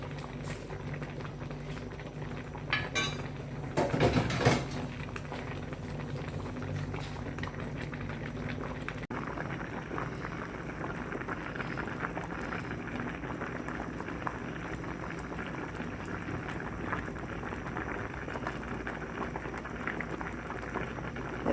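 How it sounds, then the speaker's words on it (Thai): A pot of Thai tom saep fish soup with tilapia at a rolling boil, bubbling steadily and continuously, with a brief louder surge of bubbling early on and no talking. "กำลังเดือดปลาคงสุกแล้ว"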